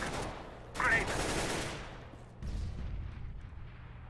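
A grenade goes off in the CS:GO game on the Mirage map, a sharp blast followed by a rumbling tail, with gunfire and another low burst after it, mixed in with faint game voices.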